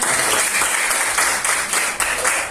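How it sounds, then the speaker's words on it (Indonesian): Classroom applause from students during a lesson, a dense burst of clapping that runs throughout with a few louder swells, close by and with no talking over it. "Kita berikan aplaus untuk"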